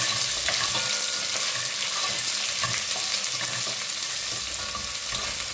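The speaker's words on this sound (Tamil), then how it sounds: "வெங்காயத்தை முதல்ல போடுறேன் ஒனியனை இது ஒரு ரெண்டு நிமிஷம் பதக்கி கொடுப்பேன்" Onions sautéing in a pan for Sri Lankan chicken devilled give a steady, close sizzle and crackle of frying with occasional stirring, continuous and without talking.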